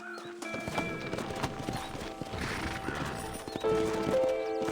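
Horses in Red Dead Redemption, hooves clip-clopping near a graveyard with a whinny cutting through, set over a steady ambient bed of game sound and a faint music tone.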